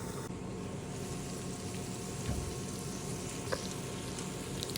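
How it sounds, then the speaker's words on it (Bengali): Spiced egg pasta with potatoes fries in a pan, giving a steady, low sizzle throughout, with a couple of soft scraping stirs breaking through near the middle and end. "আমি আরও একটু নাড়াচাড়া করি"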